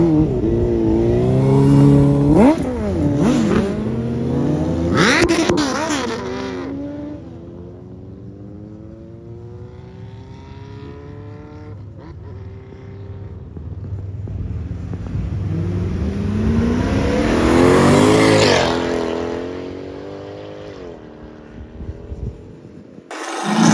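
A Puma Turbo car engine, heard at a Brazilian car meet, revs loudly several times in rising and falling sweeps, with a lull of idling rumble between the bursts.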